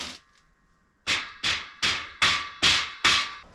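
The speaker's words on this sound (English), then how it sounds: "we're going to hammer that in place." Six sharp hammer blows land in an even rhythm, knocking shelving unit parts into place, each a loud close knock with a brief ring, following a quiet moment.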